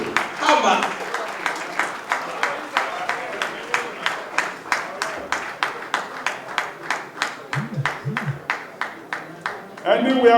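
A crowd claps in a steady, rhythmic beat at an outdoor political gathering in Nigeria, the loud, even claps lasting throughout with a brief voice near the start and end.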